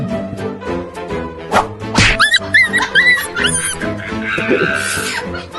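A dog barks and yips in a short burst of several sharp calls, fairly close, over a busy, steady background.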